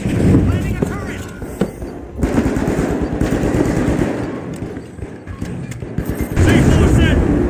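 An automated turret in The Finals rattles off loud, rapid bursts of machine-gun fire with booming impacts, in close, heavy volleys broken by short gaps, a voice faintly underneath.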